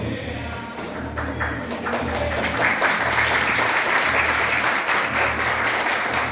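A crowd breaks into steady applause, many hands clapping together and swelling slightly louder as it goes on.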